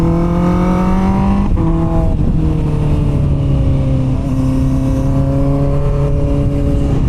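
A Honda CBR650R inline-four engine drones loudly and steadily while riding twisty roads, its pitch dipping and climbing through gear changes against a constant rush of wind.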